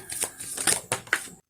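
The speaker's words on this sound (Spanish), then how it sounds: "ahora vamos a barajar con el tarot de Osho" Osho tarot cards being shuffled by hand, a series of soft papery riffles and slaps in quick bursts, close and fairly quiet, ending abruptly in silence.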